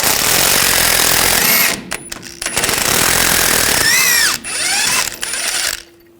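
Pneumatic impact tool with a 15mm socket removing front lower control arm bolts on a 2014-2018 GMC Sierra 1500, close and loud: long hammering bursts broken by short pauses and whining spin-downs, ending in quiet.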